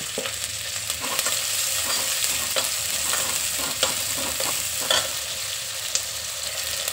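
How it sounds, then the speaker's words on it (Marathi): Onion with a little salt, then ginger-garlic paste, sautés in a pan for chicken biryani, a steady close sizzle with the scrape and clatter of a spoon stirring throughout. "आता कांदा छान परततो."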